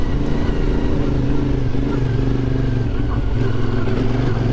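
A CFMoto Ibex 450 motorcycle engine lugs in second gear at low speed, a steady, loud, rough low drone with clattery texture running throughout, no talk over it.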